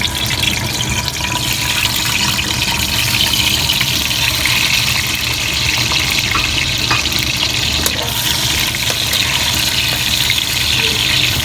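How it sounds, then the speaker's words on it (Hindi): Whole tomatoes sizzle in about two spoons of hot oil in a kadhai, giving a loud, steady, hissing fry that continues unbroken throughout. "2 चम्मच तेल डाला और ये कढ़ाई में इसको इस तरह रख देती हूँ"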